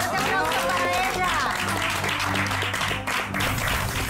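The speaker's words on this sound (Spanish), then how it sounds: "¡Un fuerte aplauso para ella!" A studio audience applauds the MasterChef Junior winner on MasterChef México, loud clapping and cheering mixed with music and a voice over it.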